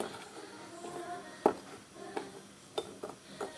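A spoon stirs homemade cake batter in a bowl for a microwave cake, with a soft scraping bed and a handful of sharp clinks against the bowl's side.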